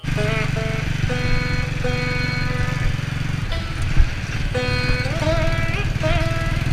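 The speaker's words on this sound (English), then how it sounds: "As the road was challenging, my bike was working overtime." A motorcycle engine labours on a challenging Himalayan mountain road, a loud continuous drone with shifting pitch as revs rise and fall, close by throughout.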